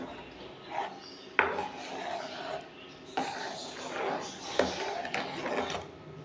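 A spoon stirs cornflour into milk in a pot, giving repeated scraping and knocking strokes against the metal in irregular bursts with brief pauses, close up and moderately loud.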